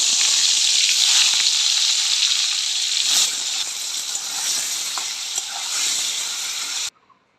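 Eggplant and potato pieces rubbed with turmeric and salt fry in hot oil, giving a loud, close, steady sizzle and hiss with occasional spits. The sound cuts off abruptly near the end.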